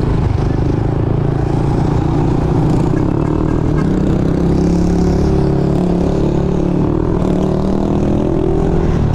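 A Yamaha NMAX V2 scooter with a JVT V3 pipe and CVT set on a test ride, its engine a steady loud drone with wind rush and no break throughout, heard from on board.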